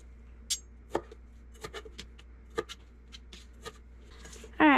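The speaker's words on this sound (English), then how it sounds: "Another good way to get this out is just to use a spoon and kind of scrape." A spoon scrapes the seeds out of a jalapeno, making soft, scattered scraping and tapping clicks at an irregular pace, close up, with a louder rustle at the end.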